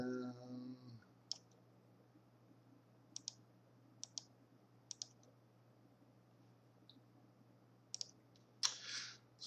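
Computer mouse clicks on a quiet desk, a handful of sharp, separate clicks spaced a second or so apart, close and crisp, after a short burst of sound at the start.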